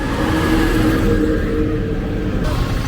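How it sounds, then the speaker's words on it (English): A truck carrying sand drives past on a street in Koforidua, Ghana, a loud continuous engine rumble close by that holds steady throughout. "This one is also carrying sand."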